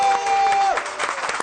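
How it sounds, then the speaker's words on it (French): An audience claps briefly during a live TV show taping, a short burst of crowd applause rising over a fading steady tone and ending abruptly. "Applaudir"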